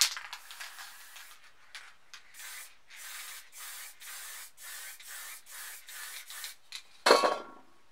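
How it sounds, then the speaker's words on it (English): A spray paint can hisses out light yellow paint in a run of short, evenly spaced bursts at close range, ending in one louder, longer blast. "Then with a light yellow, we'll just spray a bit of the top."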